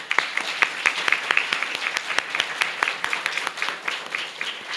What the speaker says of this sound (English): Let's have a round of applause for both our teams today